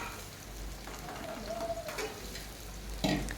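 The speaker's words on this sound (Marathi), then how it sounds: "तेलामध्ये कांदा छान परतून घ्यायचा आहे आपल्याला त्याचा कलर चेंज होईपर्यंत" Onion sautéing in oil in a kadhai, a soft continuous sizzle with faint stirring scrapes and a louder clatter near the end, close and without talk.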